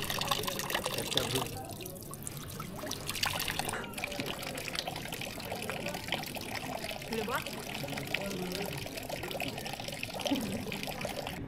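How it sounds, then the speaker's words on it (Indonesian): Steady running water flows continuously from a drinking-water tap in a medieval village, Yvoire, France, with a broad rushing wash that stays even throughout, and faint voices murmur beneath it. "Di sini ada air mengalir"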